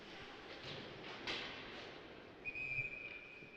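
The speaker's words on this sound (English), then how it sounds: "And a whistle at 8:12." A referee's whistle sounds once in a steady tone during a PPP Hockey game between Team White and the Cyclones, rising over a constant hum of arena noise and distant crowd chatter.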